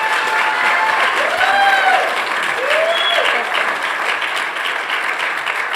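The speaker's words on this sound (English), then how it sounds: "everybody, please give her a big round of applause and appreciation" Steady applause from a crowd, continuous clapping throughout with faint voices and a few cheers mixed in.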